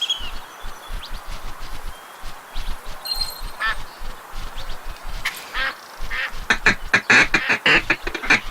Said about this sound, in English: let's hunt some ducks